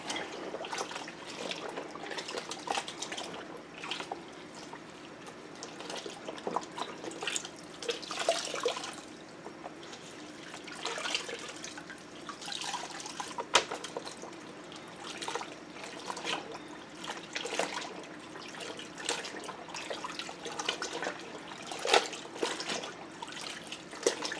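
Cold water pours from a tap into a top-loading washing machine, a steady splashing and trickling stream with uneven surges, close by and fairly quiet, no voices.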